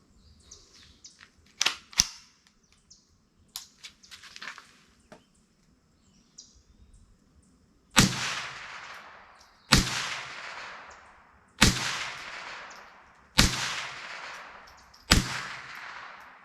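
Five sharp Ruger rifle shots fired down range at even intervals, each crack followed by a short decaying echo, after a stretch of faint clicks and handling noises with no talk.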